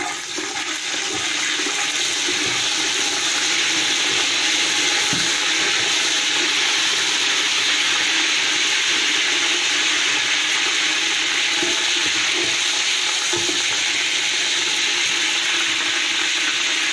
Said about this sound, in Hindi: इसमें हम थोड़ा सा पानी शामिल करेंगे।